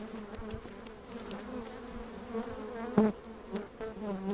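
Honeybees buzz steadily up close at a hive in late January, a dense droning hum with individual bees swelling louder as they pass near, no voices.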